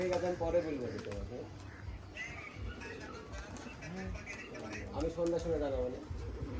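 Soft pigeon cooing, low and throaty, repeating a few times while people talk nearby.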